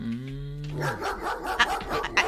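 A dog gives a whining, drawn-out yelp and then several rough barks in an Ilocano comedy radio drama, loud and close.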